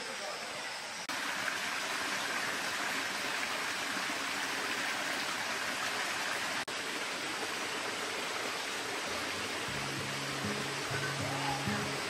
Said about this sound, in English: You hear the water over there?